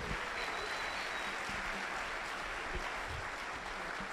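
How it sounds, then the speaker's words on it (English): Audience applause for guest speakers at a LIFTx leadership event at MacDill, a continuous wash of many hands clapping at moderate volume, steady and even from start to finish. "can I get a nice round of applause for all of our guest speakers here today?"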